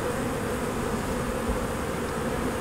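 Honeybees buzzing in a steady, dense drone while a hive is opened and taken apart for installing package bees, the hum continuous and fairly close with no talk.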